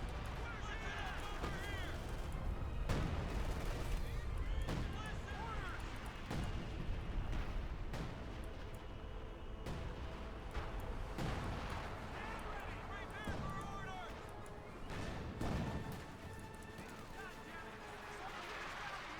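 Artillery barrage in Company of Heroes 2, a Wehrmacht versus US Forces match, with repeated booming impacts and scattered gunfire spread through a dense battle din, under a continuous commentator's voice.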